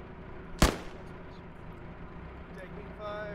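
A single sharp gunshot in the military game Arma, one loud close crack standing out above a low rumbling background, with voices talking before and after.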